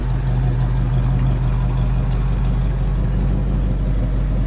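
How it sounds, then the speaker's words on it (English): A restored 1967 Chevy Chevelle wagon with a 327 V8 and automatic transmission idles close by, a steady low rumble with an even, unbroken drone throughout and no voices. "Check out this 1967 Chevy Chevelle Wagon, 327, automatic transmission"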